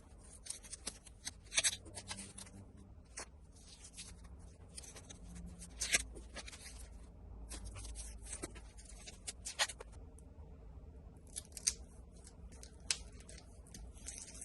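Tape is pressed and smoothed around the edges of a large hole in a cinder block wall, giving faint scratchy rubs and short crackling bursts scattered irregularly through a quiet room.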